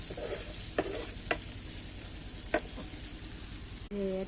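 Tomatoes are stirred into fried masala in a pan, a steady close sizzle broken by a few spoon scrapes and knocks, ending in a brief tonal beep.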